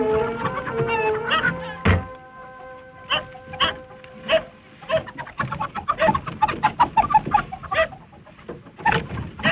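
Hens cluck and squawk in bursts, fairly close, with scattered knocks and thumps mixed among the calls.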